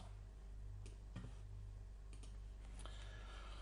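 Sparse keystrokes on a computer keyboard ending in an Enter press, a few soft separate clicks over a faint steady hum, quiet and close.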